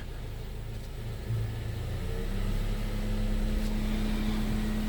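A 2011 Toyota Camry with a stalling and lifter problem idles with the air conditioning switched on, a low steady engine hum joined by a rising fan whir and a constant tonal drone, no talking.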